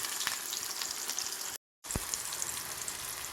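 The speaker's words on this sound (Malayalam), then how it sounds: "അതിലേക്ക് ഒരു ചെറിയ സവാള പൊടിയായിട്ട് അരിഞ്ഞതാണ് ഇട്ട് കൊടുത്തത്." Finely chopped onion and fenugreek seeds fry in hot coconut oil, a dense crackling sizzle that drops out for a split second and then resumes with a sharp pop.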